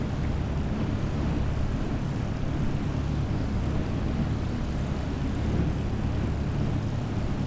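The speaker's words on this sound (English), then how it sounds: "I think this aircraft is picking up a lot of speed" Steady, loud, broadband engine roar and wind rush from an aircraft gaining speed in MS Flight Simulator 2020, constant and unbroken throughout.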